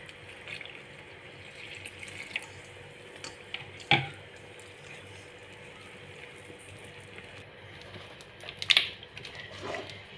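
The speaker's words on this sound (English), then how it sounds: "You add warm water." Warm water poured into the dry ingredients for puff-puff dough gives a faint, steady trickle and splash, with a couple of sharp clicks of the bowl or container along the way.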